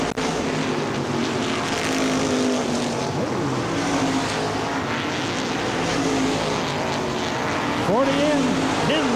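Modified race cars of the ICAR Top Speed Modified Tour at Baer Field Speedway roar continuously in a dense, loud pack, engine tones sweeping up and down as cars pass, with the track announcer talking over the noise.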